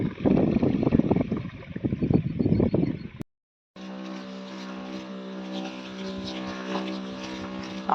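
A farm pesticide sprayer pump engine drones steadily with a buzzing hum, broken by a brief silence, then resumes as an even, loud mechanical whine with no speech.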